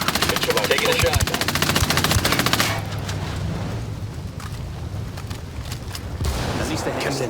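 Rapid automatic gunfire bursts up close in Ghost Recon Wildlands, a dense rattling volley for the first few seconds, then quieter scattered shots and game ambience with voices underneath.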